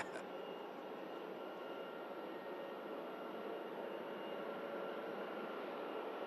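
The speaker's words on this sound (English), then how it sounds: "Aircraft just going through an initial spool, and then... Here she goes." A jet airliner at Manchester Airport spools up its engines for takeoff, a steady broadband roar holding at a constant level from start to finish, moderately distant, with no voices.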